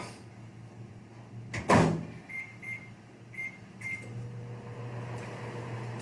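A microwave oven warming chocolate: a door thuds shut, a few short beeps sound, and then the oven settles into a steady low hum that runs to the end.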